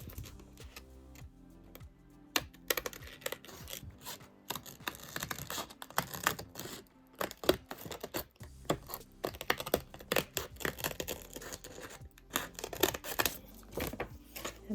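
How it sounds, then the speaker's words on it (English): Scissors snip through hair bow material, a rapid run of crisp, close cuts and clicks that continues steadily throughout with no talking. "I'm going to cut that bit right off, so that's for the left side."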